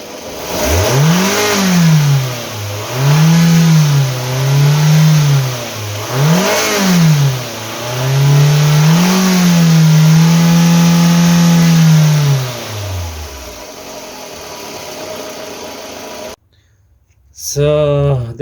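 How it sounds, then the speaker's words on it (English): Toyota Estima 2AZ-FE 2.4L four-cylinder with a flickering oil warning light, revved repeatedly toward 4000 rpm in close, loud surges that rise and fall, then a long held rev before it drops back to idle and cuts off. "I rev up the engine for the 4000 rpm"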